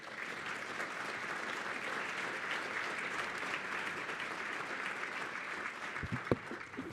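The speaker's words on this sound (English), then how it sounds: "please give her a well-deserved round of applause" An audience applauds a speaker at a Dignity through Work event, a steady even wash of clapping throughout, moderately distant, ending with a few bumps.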